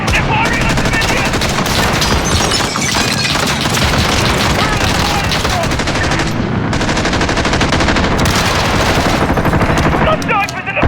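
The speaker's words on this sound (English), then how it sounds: "They're firing on civilians!" Intense gunfire at Piccadilly Circus in the London attack mission of Call of Duty: Modern Warfare (2019): sustained machine-gun bursts and rapid shots fill the scene almost without pause, loud and close, with booms and shouting voices mixed into the din.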